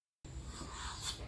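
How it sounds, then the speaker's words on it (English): A worn Wacom pen nib scratching across a drawing tablet surface, a short, faint, close dry rubbing scrape lasting about a second. "My Wacom didn't have nibs, so it's really worn out, and it sounds like this."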